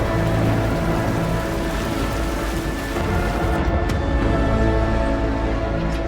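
A heavy storm at sea sends a dense, continuous roar of rain and wind, loud and unbroken, with low rumbling beneath and no voices.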